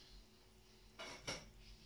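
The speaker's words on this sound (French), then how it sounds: "je vais récupérer ma casserole" A metal saucepan lifted off a kitchen stove while making vanilla flan and peach compote, two quick clattering metallic knocks in a quiet room.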